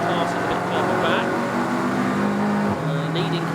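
At Snetterton circuit, race cars run a loud, steady engine drone, with pitch shifts as cars pass, under constant track noise.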